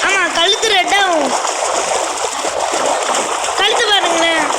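Water splashing in a Roblox game, bursts of splashy spray at the start and again near the end with a continuous watery wash between, heard under a voice talking.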